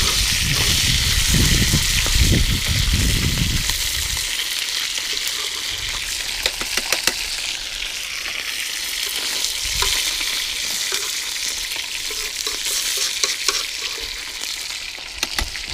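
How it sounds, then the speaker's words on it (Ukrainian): Semolina-breaded crucian carp frying in batches in hot oil, a loud continuous close sizzle with bursts of crackle as fresh pieces go in and scattered clinks of utensils. "Першу партію скинули, закидуємо ось цю партію."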